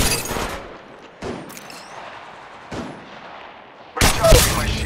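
Apex Legends gunfire in a video game match: several short broadband bursts of shots, a loud volley at the start, brief cracks around the middle and another heavy burst at the end, with quieter game ambience in between.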